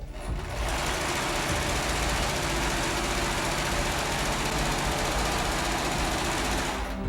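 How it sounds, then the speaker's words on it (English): A sewing machine hems the sides of a fabric tunic for a Zelda-inspired LARP costume, giving a continuous, even mechanical whir close by for the whole stretch, starting abruptly after a short moment. "Now we're going to hem the sides of the tunic and the hat that we've made."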